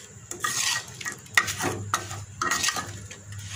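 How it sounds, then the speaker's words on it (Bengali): Vegetables are worked together with turmeric, coriander, cumin and mustard oil in a pan, making close, uneven bursts of wet stirring, scraping and light utensil clinks. "এটাকে এখন ভালোভাবে মাখিয়ে নেব।"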